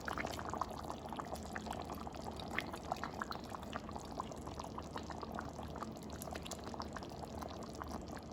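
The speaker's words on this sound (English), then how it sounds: "So I drained all the liquid and water, and now we pour it" Drained nopales poured into a cooking pot for costillas de puerco en chile colorado, a steady wet pouring and pattering with soft splashy crackles running throughout, fairly quiet and with no talking.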